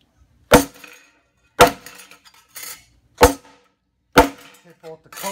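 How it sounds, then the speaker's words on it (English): A ball peen hammer strikes coated steel and aluminum test panels with four sharp, ringing metallic impacts spaced about a second apart, plus a lighter tap at the end, close and clear against silence. "We're gonna hit each sample with the ball peen hammer to make indents to show the flexibility."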